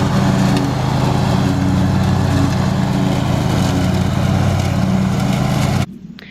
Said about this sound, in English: I got some more made down there until the lawnmower decided to not work properly